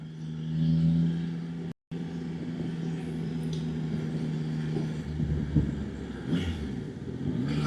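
A Yamaha Tracer 9 GT motorcycle on its standard exhaust rides along a road in the Yorkshire Dales, its engine a steady low drone mixed with wind rush, with a brief dropout and slight swells in revs.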